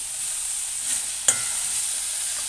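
Onions, green chillies and tomatoes frying in a pan for onion chutney, with a soft steady sizzle and a single brief stir or scrape partway through.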